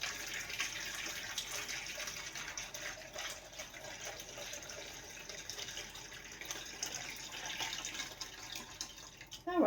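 Liquid is poured steadily into a jar while canning pineapple, giving a continuous close splashing and trickling stream for the whole stretch that ends in a brief clatter.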